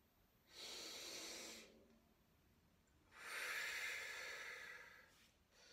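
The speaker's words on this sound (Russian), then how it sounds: "вы должны почувствовать, как расходятся ребра, и легкие наполняются воздухом" Two deep, slow breaths drawn in through the mouth during a trumpet lesson demonstration, each a soft airy rush of a second or more, separated by quiet, with a brief faint breath at the end.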